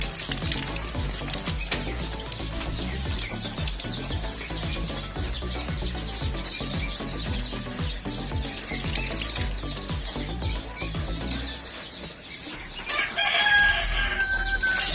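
Chickens cluck steadily and a rooster crows on a small home farm, the birds close and busy throughout, with a brief louder burst near the end and no talk.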